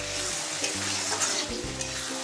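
Paneer being stir-fried and pressed into a thick gravy, with a loud steady sizzle and a few scraping stirs of a spoon against the pan.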